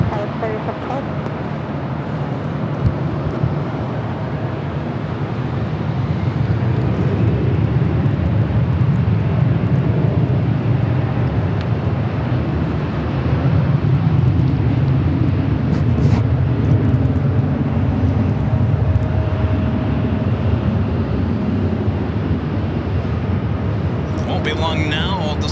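A Delta jet takes off from runway 24 left at Los Angeles International Airport as a heavy, low rumbling roar that swells after a few seconds and holds steady, loud and broad, through the rest.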